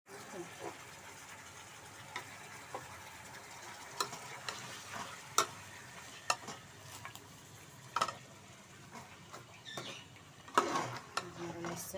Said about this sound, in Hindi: इसको हमें हल्के से भूनेंगे, हल्का सा बिल्कुल